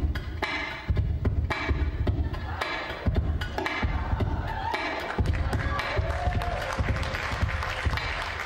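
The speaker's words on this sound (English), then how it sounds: "You put it all together and you get the ukulele drum beat" A busy percussive drum beat played on a ukulele: low thumps alternating with sharper taps and clicks in a steady, driving rhythm.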